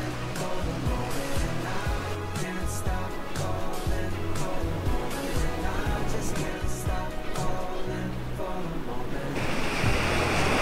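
Sea waves wash steadily onto a beach at Peng Chau, a continuous broad surf roar with wind noise, with music or other tonal sound layered over it throughout.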